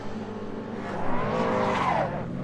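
Race cars in a sim racing game of a BTCC-style touring car race against AI opponents at Pembrey: close engine drone rising in pitch, with a brief squealing tire skid layered over the mechanical roar.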